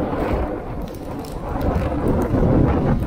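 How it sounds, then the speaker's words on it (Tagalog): A strong typhoon, Bagyong Uwan, with heavy rain pouring down steadily and wind gusting, a dense, loud, continuous roar that swells slightly toward the end, with no voices. "Sobrang lakas ng bagyo na to, sobra."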